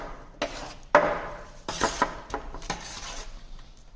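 Cement paste being mixed with water by hand, with several scraping, clinking strokes of a tool against a container, close and intermittent with short pauses between.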